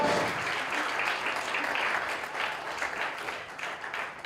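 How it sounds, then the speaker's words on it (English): A roundtable audience claps together in a room, a dense and steady applause that carries on throughout and fades slightly toward the end. "Let's clap one. Let's clap one. Let's clap."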